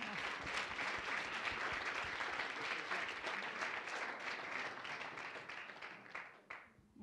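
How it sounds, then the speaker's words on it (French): Steady crowd applause at a student startup pitch competition awards ceremony, dense continuous clapping from a large audience that holds for several seconds and then tapers off near the end. "Donc on peut les applaudir."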